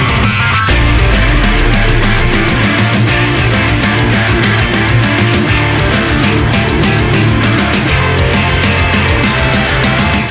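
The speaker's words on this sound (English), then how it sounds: "we take a budget amp like the Peavey Valve King 100 and pair it with the HexDrive to make it sound" An electric guitar plays through a Peavey Valve King 100 amp boosted by a HexDrive, with a dense, loud, heavily distorted tone of chugging low riffs and sustained chords that runs continuously without talk.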